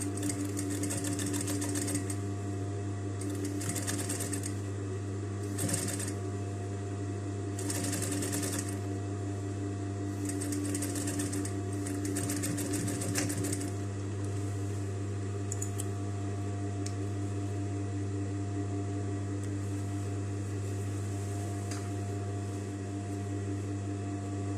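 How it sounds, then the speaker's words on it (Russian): A sewing machine runs steadily, stitching a seam along the waistband of classic trousers, with a constant motor hum under bursts of rapid needle clatter that start and stop several times, close and alone without speech. "Вот так прострочили строчку."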